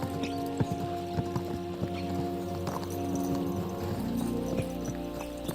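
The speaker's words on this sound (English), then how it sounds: "Let's really spur these horses on, eh?" Horse hooves clip-clop over ground in the medieval game Kingdom Come: Deliverance 2, a run of sharp, uneven hoofbeats over a low humming background, with no speech.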